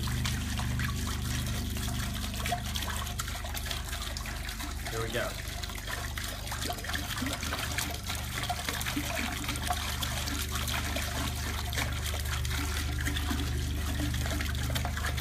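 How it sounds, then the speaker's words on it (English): A gallon of homemade mead poured into a pot, a continuous close trickle and splash of liquid lasting throughout, with a brief spoken remark partway in. "we're going to pour our mead into this pot."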